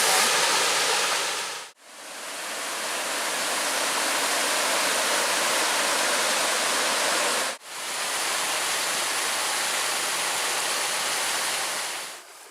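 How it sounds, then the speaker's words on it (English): Track Falls in the Porcupine Mountains roars as a steady, loud broadband rush of falling water, briefly cut off twice. "We're at Track Falls."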